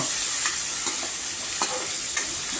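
Onions frying in a pan with chicken, a constant close sizzle broken by a few regular scraping strokes of a spoon stirring them, with no voices.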